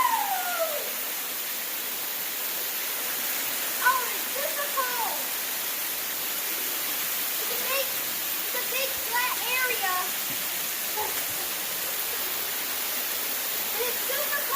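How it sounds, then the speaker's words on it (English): Water streams out of rock inside a cave, a steady rushing hiss that fills the space, with faint scattered chirps and small sounds over it. "The water's coming out of the rock. There's a stream that's coming down."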